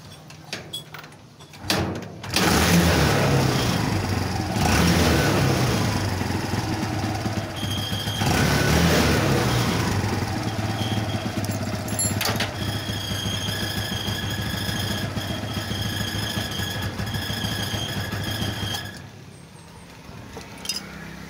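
A Barako motorcycle engine, just repaired after a decompression arm fault, starts and runs steadily for a long stretch, a close, loud, even idle that rises slightly at moments before cutting out near the end.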